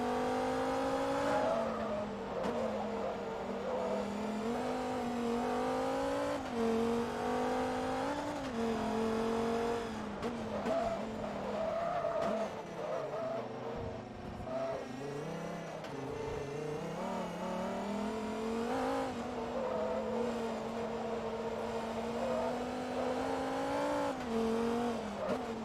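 Engine of an American sports car in Forza Motorsport 2, held in third or fourth gear, droning steadily and loudly for about half a minute, its pitch swelling and easing as the car accelerates and lifts off.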